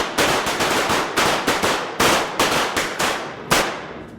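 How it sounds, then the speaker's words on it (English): Pistol shots fired one-handed on a firing range, about a dozen loud sharp reports in quick succession, some overlapping, close and clear without talk. "Line is ready, one-handed shooting, go ahead, shoot, one hand."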